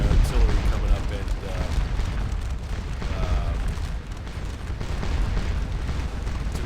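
Artillery in the Napoleonic battle game Scourge of War: Waterloo, at Ligny, rumbles as a dense, continuous roar of distant cannon booms and battle noise, loud and sustained with no pauses.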